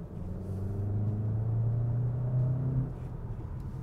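A 2024 Volkswagen Jetta GLI accelerates on the road in normal mode, its engine rising in a smooth low drone over road rumble from inside the car before settling near the end.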